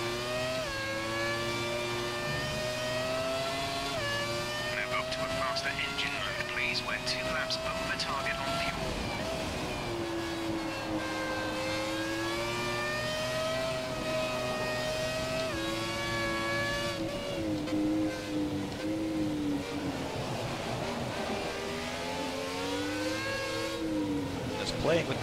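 A Formula 1 car in the F1 2017 racing game at Silverstone screams through continuous high revs, the engine pitch climbing and dropping with each gear change and corner, heard close and loud with a commentator talking over it.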